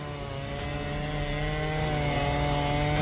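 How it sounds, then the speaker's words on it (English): A chainsaw roars continuously at high revs, its engine drone steady and loud as it fells a tree. "Felling a tree with a chainsaw is a task that requires precision and high skill."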